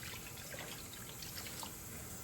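Water runs steadily into a cooking pot holding chicken, a soft continuous splashing and trickling, fairly faint and without voices.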